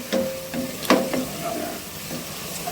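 Khichuri frying in a pan, with steady sizzling and a few sharp scraping stirs near the mic and no talk.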